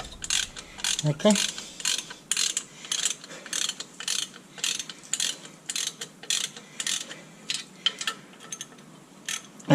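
Ratcheting spanner tightening clutch pressure plate bolts on a 2014 VW Polo 1.4: close, rapid bursts of clicking ratchet pawl repeat in short regular strokes, with one brief spoken word early on.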